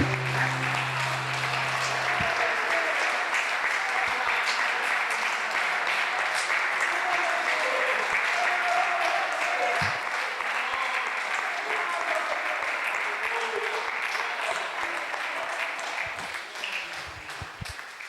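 A church congregation applauds through a worship service, with loud, dense, sustained clapping that fills the room for the whole stretch and a few voices rising beneath it before it thins slightly at the end.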